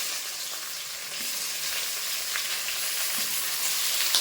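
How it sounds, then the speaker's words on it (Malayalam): Ginger, garlic and onion fry in hot oil for an egg roast, making a continuous, close sizzling hiss with occasional faint stirring and no voices. "ഇതിലേക്ക് നമ്മൾ ഇഞ്ചി ഇട്ട് കൊടുത്ത് വെളുത്തുള്ളി ഇട്ട് കൊടുത്ത് നമ്മുടെ സവാള ഇട്ട് കൊടുത്ത്"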